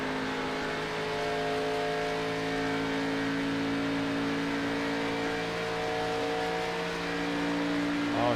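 ARCA stock car engine at Kentucky Speedway holds a steady, loud droning roar with a strong tonal whine for eight seconds, lightly shifting pitch as it runs at speed, with no talking.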